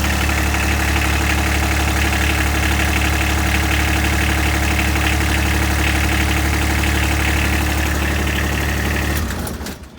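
A Kubota X1140 RTV utility vehicle's engine runs loud and close after the ignition key is turned, a dense steady rumbling idle with mechanical clatter, cutting off abruptly near the end.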